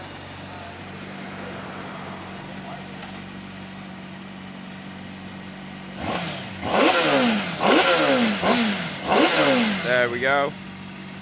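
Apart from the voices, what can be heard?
Honda CBR Fireblade motorcycle engine starting and revving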